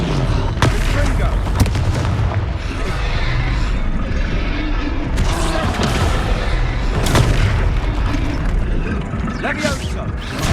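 Confringo fire spell blasts from the video game Hogwarts Legacy, a run of loud booming impacts and crackling bursts at irregular intervals over a dense game soundscape.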